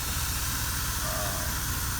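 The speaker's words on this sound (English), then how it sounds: "Sweet sizzle away." Food sizzles on a George Foreman 5-serving electric grill, a steady, close hiss that holds without a break and has no talk over it.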